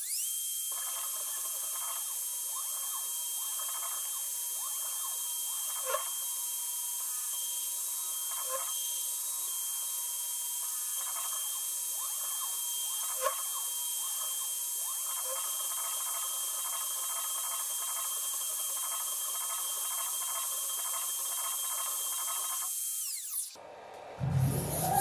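A CNC engraver running on a curved aluminium sheet, giving a steady high hiss with a faint repeating rhythmic scratching and occasional sharp ticks, continuous and close until it stops near the end.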